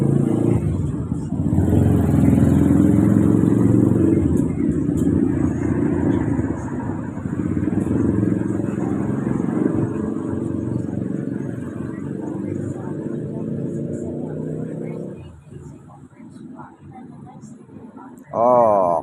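A Yamaha Sniper or R15 motorcycle engine runs steadily at idle, a loud low rumble holding for most of the time, easing off near the end before a short sharp rev.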